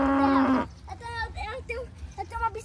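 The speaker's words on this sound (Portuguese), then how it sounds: "Olha, gente, eu tô vendo ali uma vaca." A cow moos once, loud and close for about half a second, then gives way to someone talking over quiet farmyard background.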